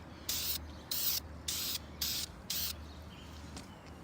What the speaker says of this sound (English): now we're gonna start painting it.